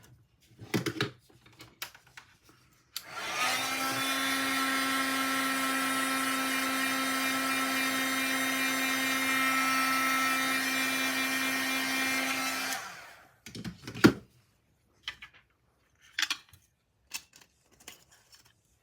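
A handheld heat or craft dryer blows steadily for about ten seconds to dry a freshly stamped card, a loud, even whirring drone with a strong hum that starts and stops cleanly amid light handling noises.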